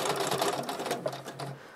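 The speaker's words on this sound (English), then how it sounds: "We're just going to sew right up to the point." A sewing machine runs in one steady burst, stitching quilt binding up to a mitred corner point, close and continuous with a brief slowdown near the end.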